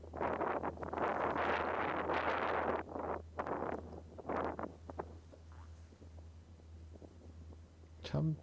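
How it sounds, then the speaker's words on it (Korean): Strong wind buffets the microphone in gusty, rumbling bursts that swell and fade, loudest in the first few seconds, with a low steady hum underneath and a brief rustle at the end. "참 바람 잔인하죠"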